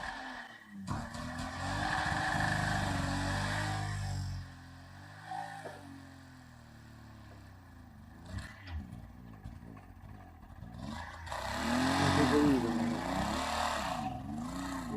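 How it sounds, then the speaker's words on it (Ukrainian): A loaded Barkas van engine revs and strains, rising and falling in pitch as it pulls away, with a louder surge of engine noise near the end. "Зараз буде і іспитання нашої машини. Як той двигун тягне чи не тягне."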